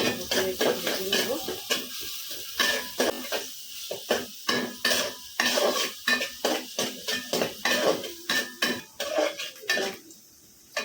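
Onions and green chillies frying in a pan, with a run of sharp metal clinks and scrapes as a utensil stirs them against the pan, repeating in an irregular rhythm under a steady low sizzle.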